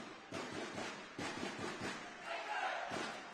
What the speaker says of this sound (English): Crowd really trying to get behind the host nation.